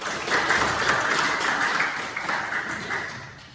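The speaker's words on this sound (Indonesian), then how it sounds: "tepuk tangan buat kita" A class of eighth-grade students at SMPN 1 Tlanakan applauds, a soft, fairly distant, steady wash of clapping that continues without pause and tapers slightly toward the end.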